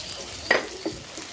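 Onion sautéing in a pan for rice upma, a low background sizzle with two brief stirring scrapes.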